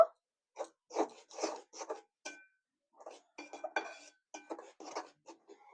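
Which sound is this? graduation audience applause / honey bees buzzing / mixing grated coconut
mixing grated coconut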